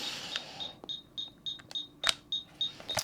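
A Ghostbusters toy prop replica beeps steadily, short high-pitched tones repeating at an even pace with a few sharper clicks mixed in.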